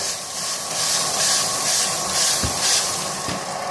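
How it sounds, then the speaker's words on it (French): Steam hissing as it is added to a home oven holding a loaf of organic country bread, a steady broad hiss close by with a couple of soft low thumps. "Un petit peu de vapeur."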